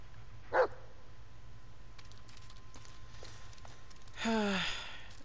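A dog in the Blair Witch video game pants with a short breathy burst early on, then gives a louder bark-like vocal near the end over a steady low game-ambience hum; no one speaks.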